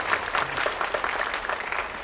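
A school audience applauds a student at an event about young people helping animals, a steady dense patter of many hands clapping throughout, moderately loud with no voices over it.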